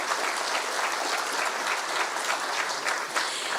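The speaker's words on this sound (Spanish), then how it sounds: "Un aplauso para Rocío." Steady, full applause from an audience welcoming a community leader from Bogotá at a climate-change discussion, continuous and even throughout.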